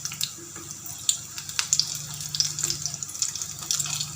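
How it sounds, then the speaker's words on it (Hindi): Crispy potato balls deep-frying in hot oil give a steady, close hiss with dense crackling and popping throughout, and no voices. "ये बॉल्स फ्राई हो रहे हैं।"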